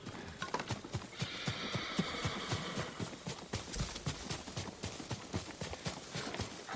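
Horse hooves clip-clop at a steady walking rhythm throughout, close and fairly loud, as a horse is ridden in a video game, with a faint tonal game sound briefly in the background.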